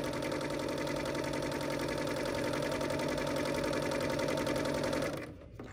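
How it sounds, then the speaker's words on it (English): A Bernina L 850 overlocker stitches flatlock serger lace, a fast, steady mechanical whir and rattle running continuously up close before stopping abruptly near the end. "you can make some serger lace"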